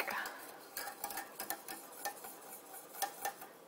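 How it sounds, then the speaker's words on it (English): A wooden spoon stirs thick, cooked-down mac and cheese sauce in a pot on the stove, giving irregular soft scrapes and light knocks against the pan, close and fairly quiet, with no talking. "So give it a stir."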